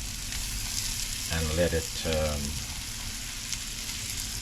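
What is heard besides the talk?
liquid added to pan of frying garlic and shrimp, sizzling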